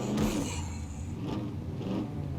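A truck driven in the survival video game SCUM, its mid-pitched engine revving and droning steadily with a couple of surges, close and fairly loud with no talk over it.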